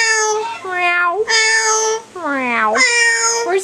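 A yellow-naped parrot imitates a cat's meow several times in a row, each call drawn out with rising and falling pitch, loud and close with no other sounds.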